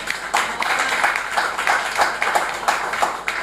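Audience at an open mic poetry event clapping together in a dense, steady round of applause that holds at an even level throughout, with no voices over it.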